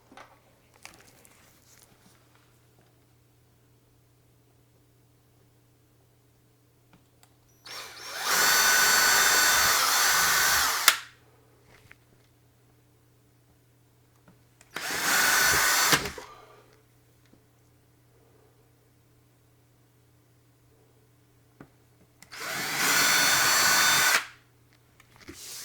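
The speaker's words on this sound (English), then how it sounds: "I'm using a 5/32 bit just to pre-drill some very tiny holes" Three loud bursts of a power drill with a 5/32 bit whirring as it pre-drills tiny holes in wood, each a few seconds long, separated by quiet pauses.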